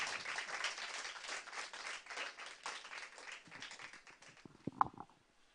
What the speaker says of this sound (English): The applause was too low,